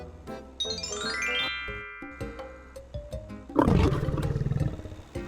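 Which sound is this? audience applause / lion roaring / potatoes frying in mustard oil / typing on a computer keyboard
lion roaring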